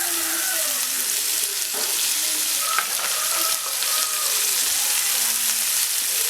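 Two chopped onions frying in coconut oil produce a loud, dense, unbroken sizzle right up close, with faint crackles and pops scattered through it.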